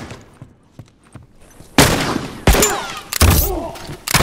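Rifle gunfire crackles in The Last of Us Remastered, with a few faint taps giving way to three loud, close bursts of shots that ring out and overlap in quick succession.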